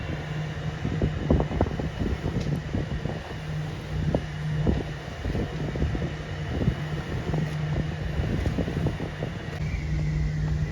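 A boat engine idles along at about 1400 RPM on a canal, a steady low drone with a constant hum and rough wind buffeting the microphone, continuous and fairly close, no talking.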